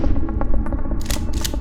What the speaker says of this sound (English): 3 gunshots pierce the air